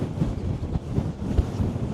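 Strong wind buffets the microphone on a remote Scottish beach, a steady low rushing roar with gusty swells and no voices.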